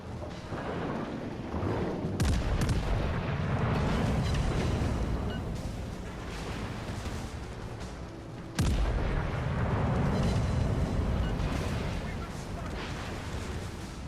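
Heavy battleship gunfire in the naval video game World of Warships: Legends, two booming salvos with sharp onsets followed by long rumbling decay, loud and dense with secondary guns and explosions layered throughout.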